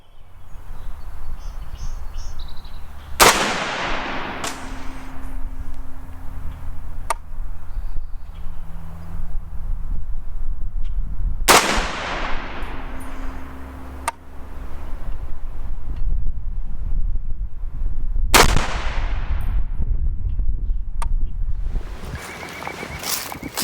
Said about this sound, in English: I'll fire a couple of groups to test out the accuracy potential of this barrel